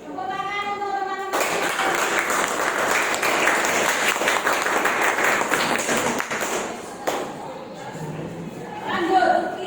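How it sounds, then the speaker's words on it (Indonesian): Classroom applause for a group of students, a long burst of clapping mixed with tapping and chatter, starting after a voice and fading out before more talking at the end. "Tepuk tangan untuk teman-teman."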